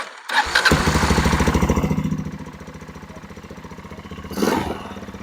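A Kawasaki KLR650 adventure motorcycle in rough, untested condition cranks with a clattering start, catches and settles into a steady thumping idle, then gives one brief throttle blip before dropping back to idle; close and loud, with no talk.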